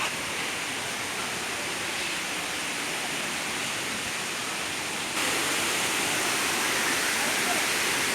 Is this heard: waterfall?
yes